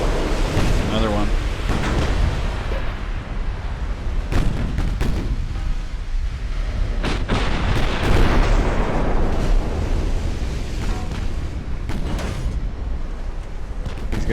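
Naval gun salvos and shell hits in Ultimate Admiral: Dreadnoughts at a Second Trafalgar battle, heavy booms and bursts at irregular intervals over a constant low rumble of combat.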